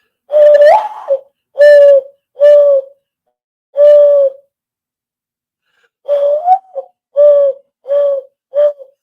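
A man outdoors imitates owl hoots with his voice, eight loud, close, hollow hoots in two groups separated by a pause, alone with no talk.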